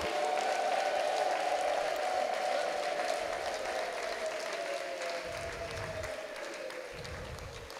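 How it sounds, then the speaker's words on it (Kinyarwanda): A congregation at a Rwandan church prayer service gives dense, sustained applause, many hands clapping together close by, with a drawn-out tone ringing through it and fading slightly toward the end. "tugukomeye amashyi"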